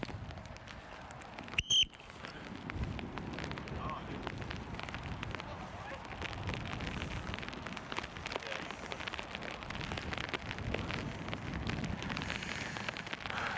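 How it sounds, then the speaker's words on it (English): Heavy rain falls outdoors at a sports practice, a constant crackling patter across the whole stretch, with a brief whistle-like tone near the start and faint voices and movement beneath. "This rain's getting pretty bad."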